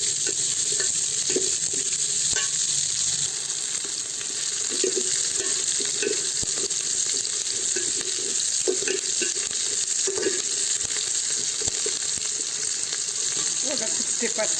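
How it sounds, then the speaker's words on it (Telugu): Green chillies fry in a pan for an okra and tomato dish, with a constant loud hiss of sizzling oil and intermittent soft scraping from stirring, close up and continuous. "వేసుకొని ఒక 2 నిమిషాల పాటు వేయించుకోవాలి."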